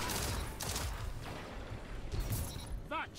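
Gunfire in a shooter video game: rapid bursts of shots and crashing impacts, fairly loud, with a brief voice near the end.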